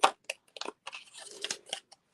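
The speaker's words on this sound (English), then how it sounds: "I'm going to just cut these off. Remember when you fussy cut to move the paper, don't move the scissors." Scissors fussy cutting paper for a gift card holder craft, with short close crisp snips and crinkly cuts in an irregular run of quick bursts, no talk.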